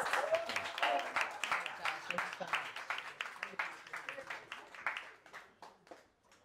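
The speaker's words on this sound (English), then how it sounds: "Let's give a round of applause." An audience at a live dating show event in Atlanta applauds, fairly faint rhythmic clapping from many hands under ongoing voices, tapering off toward the end.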